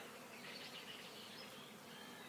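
Honey bees working at a hive during swarming season, a dense, even buzzing drone with no pauses, moderately close and faint.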